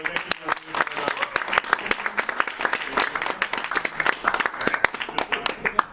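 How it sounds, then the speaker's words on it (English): An audience gives Steve Miller a big round of applause, a dense, steady burst of many hands clapping close by that holds for about six seconds. "big round of applause for Steve Miller"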